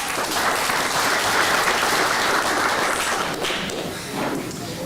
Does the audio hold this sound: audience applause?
yes